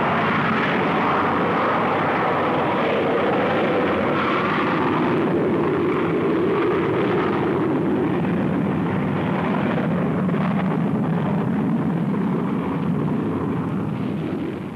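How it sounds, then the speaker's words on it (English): A Saturn 1B rocket launching: a loud, continuous, broad rumbling roar that holds steady for the whole stretch with slowly shifting texture and no voices. "On this day, the launch of another Saturn 1B rocket."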